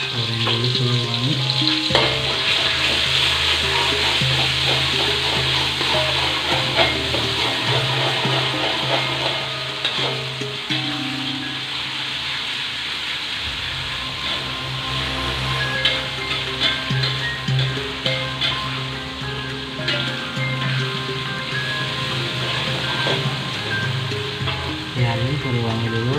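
Ground spice paste sizzles steadily in hot oil in a pan, being fried until fragrant before water spinach is added for a stir-fry, a continuous loud frying hiss with occasional stirring scrapes.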